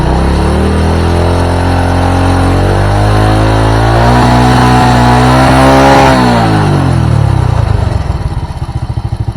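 A Honda Supra motorcycle engine on test, revved up slowly from a loud idle to a high whine and then dropping back, continuous and close, ending in a rough, pulsing idle.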